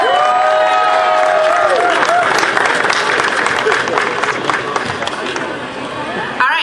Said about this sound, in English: Give a big round of applause for Monica Ratliff